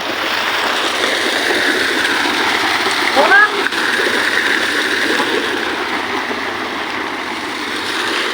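Steady rushing and splashing water at Balayong in Puerto Princesa City, loud and continuous throughout, with faint voices in the background.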